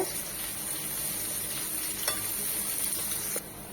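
Chopped onions fry in a pan with a steady, moderately quiet sizzle, faint stirring scrapes and a light clink near the end.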